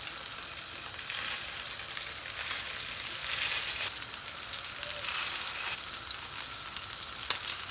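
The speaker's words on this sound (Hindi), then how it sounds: "जब ऑयल थोड़ा गर्म हो जाए तो हमने कबाबों को फ्राई करना स्टार्ट कर लेना है।" Kebabs shallow frying in a pan of oil, giving a steady, moderately loud crackling sizzle that runs unbroken throughout with scattered small pops and no voices.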